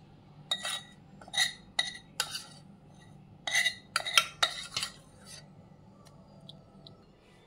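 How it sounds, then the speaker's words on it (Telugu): Spoon scraping and stirring pieces in a bowl as a cooled tempering of cumin, mustard seeds, dried red chillies, turmeric and crushed garlic is mixed in, a series of close scrapes and clinks in short bursts, then quiet. "అన్నీ వేసుకొని ఒకసారి బాగా కలుపుకుందాం."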